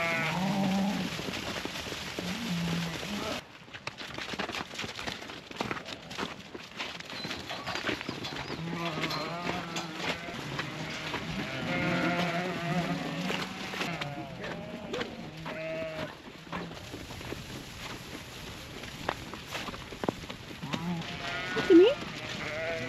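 Sheep bleat repeatedly in a handling pen with a crowding tub during ewe vaccination, several calls rising over shuffling hooves and clatter, with people talking nearby throughout.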